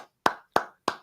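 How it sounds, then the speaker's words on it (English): Three sharp, hollow claps land at an even pace, each decaying quickly into silence, close and distinct, as though from a small group in a studio on a sports betting show. "Can we clap it up for Raph?"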